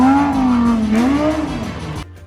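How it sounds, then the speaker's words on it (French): A car engine revving with a rising and falling pitch as the car loses control, then cutting off abruptly as it crashes onto the roadside, loud and close. "Une voiture perd le contrôle et s'écrase sur le bas-côté de la route"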